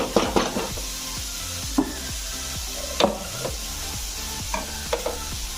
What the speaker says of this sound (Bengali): ভালো করে এটা ভেজে নেব পেঁয়াজটা আমি ভাজলাম